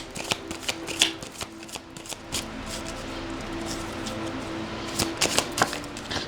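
Tarot cards are shuffled close up in quick, crisp riffling bursts with soft flicks and taps between them, fairly quiet and without talk.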